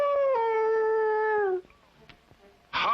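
A cartoon character's voice imitates a dog, giving one long drawn-out howling note that breaks off into quiet, followed by a short noisy burst.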